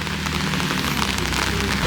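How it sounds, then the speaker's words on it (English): Steady rain falls in Beynac-et-Cazenac, France, as a dense, even patter with no voices. "Bless Madge and Matteo, getting a bit of a wash in rain."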